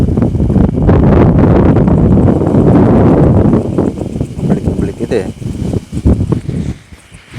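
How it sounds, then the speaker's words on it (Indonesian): Strong outdoor wind buffeting the microphone, a loud rumbling roar that fills the first few seconds and then gusts in uneven bursts while a person talks over it. "Ini maaf anginnya agak gede ya, jadi agak berisik suara angin."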